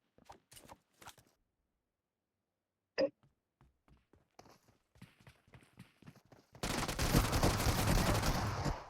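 Gunfire in the mobile battle royale game BGMI: scattered single sharp shots and clicks, then a loud, sustained burst of rapid fire near the end.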